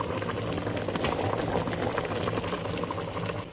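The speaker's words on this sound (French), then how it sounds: "On ajoute de l'huile de palme à l'intérieur." Palm oil goes into a pot of onions and garlic with a steady, dense sizzle and bubbling hiss that stays loud and even throughout.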